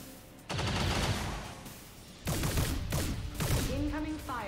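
XCOM 2 firefight with bursts of rapid gunfire, two sustained volleys separated by a brief lull, fairly close and loud, with a faint electronic whine at the end.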